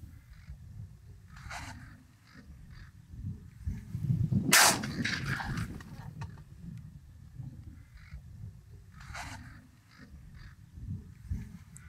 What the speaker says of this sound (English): Extremely clean shot.